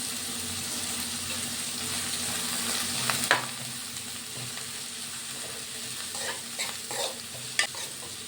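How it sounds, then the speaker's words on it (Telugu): Curry leaves sizzle in hot oil in a pan along with green chilies and onions, a steady close frying hiss broken by light stirring scrapes and clinks, with no voices. "కొంచెం కరివేపాకు వేసుకుందాము."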